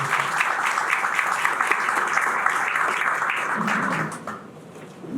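An audience at a parametric insurance conference applauds a speaker, a dense even roar of clapping that fades down near the end.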